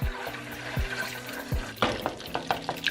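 Butter browning in a pan on the stove bubbles and sputters with soft liquid crackles, and a few low knocks sound early on. It is close and moderately loud, with no speech.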